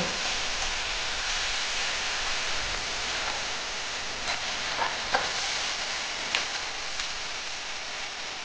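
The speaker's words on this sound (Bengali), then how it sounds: "পেঁয়াজটা লাল করে ভেজে নেব।" Onions fry in hot oil until reddish-brown for an egg, cauliflower and paneer curry, giving a dense, even hiss close by, broken by a few soft pops and stirring clicks toward the end.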